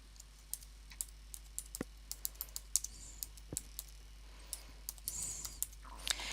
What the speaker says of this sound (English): So I can just type in the text that I require.